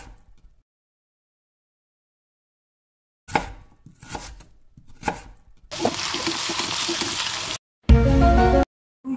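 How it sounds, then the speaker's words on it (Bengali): Onions chopped with a knife at home in a Bengali kitchen, a few short bursts of close cutting taps, then a loud broadband stretch and a final harsh burst after a brief gap, with silence at the start. "আর একটু কেটে নেবো পেঁয়াজ।"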